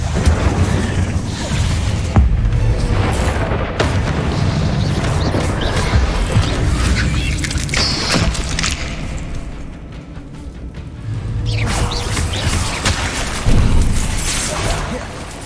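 Confringo spell blasts in Hogwarts Legacy, fired while fighting spiders: repeated heavy booms and crashing bursts roll over a dense, loud battle din with a voice heard intermittently.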